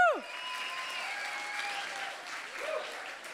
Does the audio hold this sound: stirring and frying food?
no